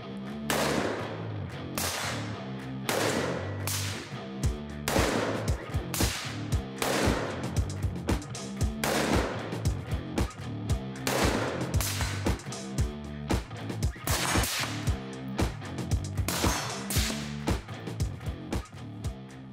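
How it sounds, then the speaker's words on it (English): Carbine rifles firing at distant targets on a night shooting course, a long run of loud sharp reports, some rapid and overlapping, others spaced apart, with no talking. "finally getting down and engaging all the targets kind of at a distance with carbines"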